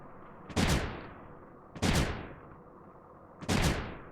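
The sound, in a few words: cannons firing in video game Creeper World 3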